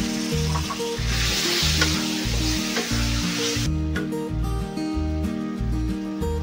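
Onion sautéing in a pan makes a continuous loud sizzle, with some stirring noise and a steady low hum underneath.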